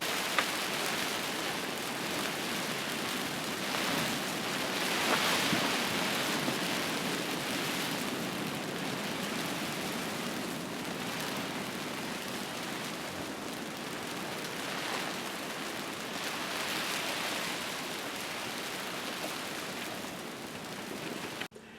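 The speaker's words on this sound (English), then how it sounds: "we had to start out with torrential rain. Boy, just pouring." Torrential rain pours down steadily and hard, a dense even hiss of heavy drops on a hunting camp that swells slightly in places, with no talk.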